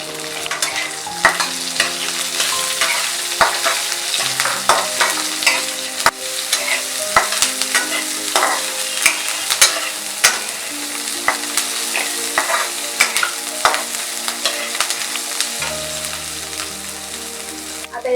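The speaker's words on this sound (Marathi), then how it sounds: "आता यामध्ये कांदा घालणार आहे," Chopped onion frying in oil in a pan for Veg Maratha, a steady bright sizzle with continual stirring and scraping clinks, loud and close with no talk.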